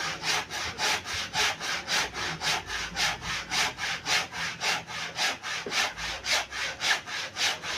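A hand saw cuts through wood with steady back-and-forth strokes, about two per second, loud and close, with a rasping rhythm that continues throughout without any talk.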